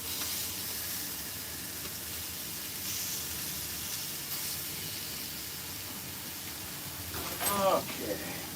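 Food fries in butter in a pan in an RV kitchen, a constant soft sizzling hiss throughout, with a short burst of clattering and crackle near the end.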